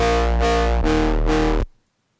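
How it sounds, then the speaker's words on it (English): A thick, distorted synth bass built from layered sine waves in FL Studio for color bass or melodic riddim sound design plays three sustained, buzzing notes, loud and alone, then cuts off abruptly to silence. "when you distort all these sine waves together, it really has a huge impact on the sound and it makes it nice and thick"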